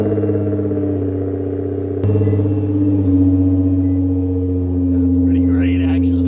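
A 2017 Nissan GT-R engine fires up with a sharp start and settles into a loud, close, rumbling idle, the pitch lifting as it revs slightly, with faint voices near the end.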